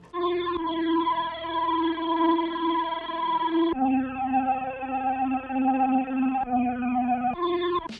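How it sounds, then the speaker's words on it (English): A simple melody on the Alpha Free synth's Cold Pad preset, drenched in chorus, echo and stereo effects, moves through a few long, smooth sustained notes that change pitch every few seconds at a steady, close level. "With the plugin Alpha Free, I used the Cold Pad preset and played a simple melody that runs through the whole track."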